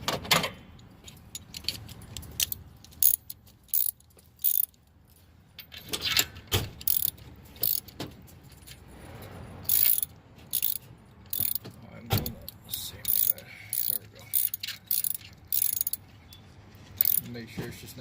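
Bursts of rapid mechanical clicking from a socket wrench ratcheting a spark plug into a 2013 Honda Civic EX engine, coming in short repeated strokes, close and fairly loud, with metallic jangling between the strokes.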